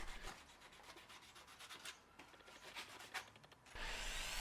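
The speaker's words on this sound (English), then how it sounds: "And now a little bit of sanding." Close, scratchy sanding of a wooden pepper grinder in quick back-and-forth strokes, with a steady rubbing hiss that grows louder at the end.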